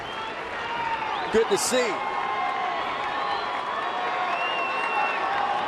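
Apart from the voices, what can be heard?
excited baseball crowd cheering at Petco Park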